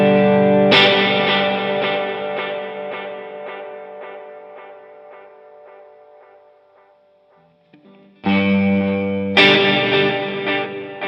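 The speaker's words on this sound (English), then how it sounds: "Right now it's on series, so the delay goes into reverb." Electric guitar chords through a NUX Atlantic pedal with delay feeding into reverb ring out with repeating echoes that trail away into a long wash, then another strummed chord hits with fresh repeats.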